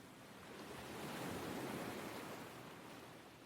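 Sea waves wash over tide-smoothed rocks on a New Zealand shore, a soft steady hiss that swells gently in the middle and eases again.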